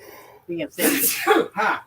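A single sneeze bursts out right after a brief spoken phrase, close and loud.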